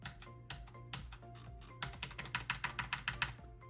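Computer keyboard keys pressed for editing shortcuts in TinkerCAD, a quick run of close, crisp clicks that speeds into a rapid, regular burst of taps.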